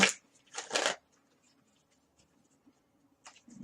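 Tarot cards being shuffled in two quick bursts at the start, near and crisp, then near silence with soft handling noises before a brief riffle returns at the end.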